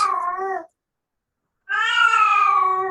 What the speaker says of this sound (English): As you can hear my cat